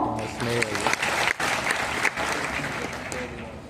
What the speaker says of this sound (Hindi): हमारे साथी यश के लिए जोरदार तालियां।